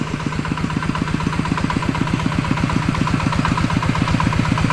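A 120 cc motorcycle engine idles nearby with a steady, rapid low chugging pulse, loud and continuous throughout with no voices.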